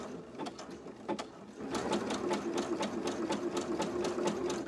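A sewing machine stitching a crumb quilt runs close and steady with a rapid rhythmic needle clatter, starting slower and speeding up partway through.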